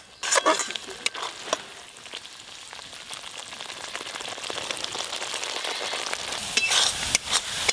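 Spices for yogurt aloo dum fry in oil with a soft, continuous sizzle, punctuated by scattered stirring clicks and scrapes of a spoon, growing a little louder toward the end, with no voices.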